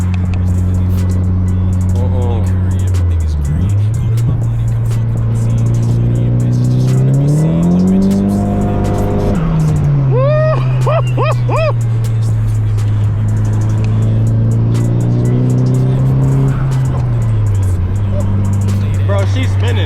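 Nissan Silvia S14 on high boost, its engine roaring loudly near the driver as the wheels spin, pitch rising and falling with revs and brief tire squeal midway, while voices talk over it.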